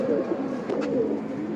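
A pigeon, a blue-patterned bird kept by a fancier, gives a soft, low cooing at close range, a steady murmuring run of throaty notes with no voices.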